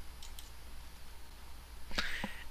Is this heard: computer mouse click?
yes